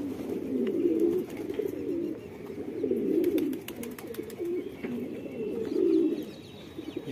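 Several Patiala pigeons coo in soft, low, repeated rolling phrases close by, with faint chirps and light rustling in the background and no talking.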